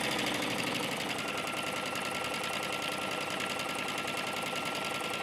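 A sewing machine stitches across the flat back side of a folding fabric basket, a fast, even mechanical whir and rattle running continuously at moderate, close level.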